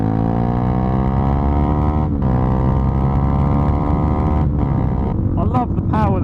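Motorcycle being ridden on the road, its engine droning loud and steady throughout with shifting revs, brief dips between gears and rising pitch near the end, mixed with wind rush.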